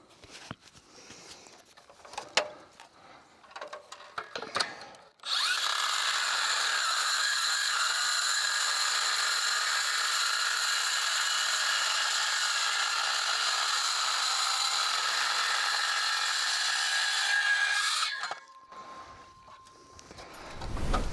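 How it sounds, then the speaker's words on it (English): A Makita metal-cutting cold saw slices through steel posts in one long, loud, steady whine lasting about twelve seconds, with scattered handling clatter before and after. "This little saw right here is my Makita metal cutting cold saw."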